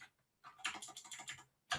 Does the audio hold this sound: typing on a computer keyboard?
yes